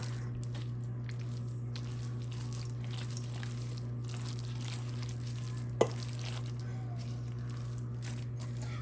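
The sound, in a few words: stirring hash brown casserole with wooden spoon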